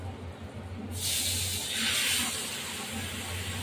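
Mustard water mixture poured into a pan of tilapia curry sizzles up with a sudden loud hiss about a second in, then keeps sizzling steadily up close.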